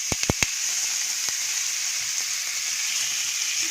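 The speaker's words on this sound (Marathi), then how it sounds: "गॅसची फ्लेम मंद ठेवून कांदा आपण सोनेरी रंगावर परतूया" Onion sautés on a low flame with asafoetida and sesame seeds, a steady close hiss of frying after a few quick clinks of a spoon against the pan.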